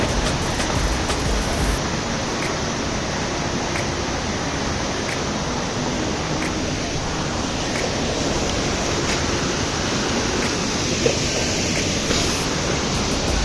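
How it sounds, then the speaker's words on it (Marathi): Steady, dense rush of falling water fills the scene without pause, a broad roaring wash that stays constant throughout. "सुंदर असा धबधबा इथे"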